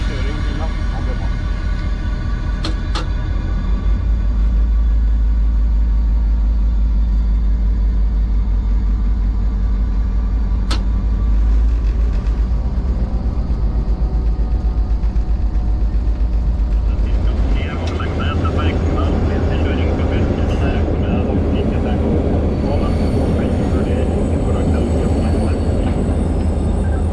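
Twin EMD 567 diesel engines of two Nohab locomotives give a loud, steady low rumble throughout, swelling into a heavier, rougher roar partway through, with brief sharp clanks on top.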